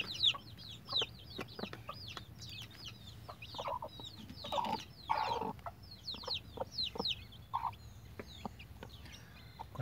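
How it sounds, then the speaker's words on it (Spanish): Chicks at their first feeding peep and cluck busily in short, rapid chirps, with occasional louder calls and soft pecking sounds, fairly close and otherwise quiet. "les voy a dejar ahí viendo a los pollitos en su primera comida"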